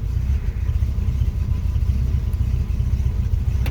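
A Pontiac Chieftain engine runs just after a push-button start, a low, steady rumbling idle with a slightly uneven pulse, close and alone with no talking.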